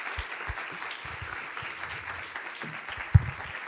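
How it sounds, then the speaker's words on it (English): Audience applause closing a keynote conference session, a steady wash of clapping from a crowd, moderately distant, with a sharp louder clap or thump near the end and no talking. "Please join me again in giving him a round of applause."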